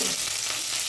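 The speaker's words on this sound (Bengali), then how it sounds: "ভালো করে মশলাটা কষিয়ে নিই।" Whole garam masala, dried chillies, cumin, tomato, and ground coriander, cumin, turmeric and chilli powders sizzle and fry in a pan for Bengali dhokar dalna, a close, steady crackle throughout.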